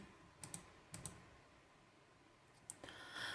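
Several sharp, quiet clicks from a computer mouse on a desk near a BlueForce gaming keyboard, arriving in small pairs with pauses between, then a final click followed by a light rustle.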